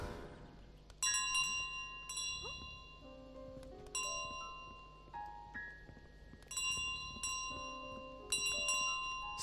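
A bell in Untitled Goose Game rings in several bright clustered dings with lingering metallic overtones, separated by softer plucked musical notes, fairly faint and with no talking.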